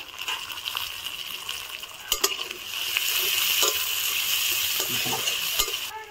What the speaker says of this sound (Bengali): পেঁয়াজটা ভাজা হয়ে গিয়েছে, আদা রসুনটা দিয়ে দেবো একসঙ্গে।